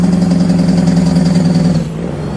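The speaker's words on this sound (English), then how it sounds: "there are some SCS engines in this truck, but they sound a lot better" A steady, loud Peterbilt 389 truck engine in American Truck Simulator drones at mid pitch with a slight rise and dip near the end, close and continuous.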